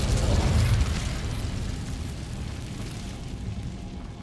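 A fire spell cast in the Hogwarts Legacy video game bursts out as a loud, low whooshing blast at the start, then trails off into a steady rumbling roar that lingers to the end.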